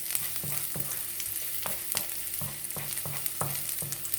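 Garlic sizzles in hot oil as it is sautéed for miki guisado, with a steady frying hiss broken by regular scraping stirs of the spatula roughly every half second, close and clear, with no talking.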